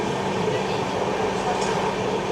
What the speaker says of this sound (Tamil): ட்ரெயின் ரொம்ப ஸ்லோவாக போகுது